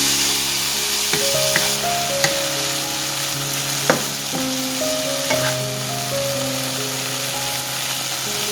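Meat sizzles steadily in a hot pan with sugar and salt added, a continuous crackling hiss with occasional clinks of a utensil against the pan.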